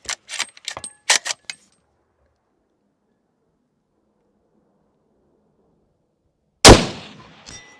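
A single loud, sharp gunshot from a home-built 7 PRC extreme-long-range rifle firing 180-grain rounds, its report ringing out and decaying over about a second, after a few brief metallic clicks and rattles of handling.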